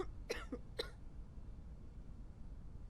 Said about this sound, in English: Coughing is a forced exhalation